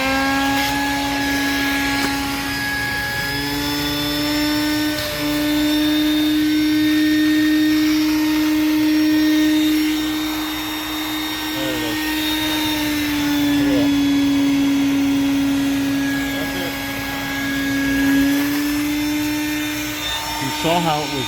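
A vacuum sucking out the primary and secondary AC condensate drain lines, a loud steady whining motor drone running without pause, close by and continuous.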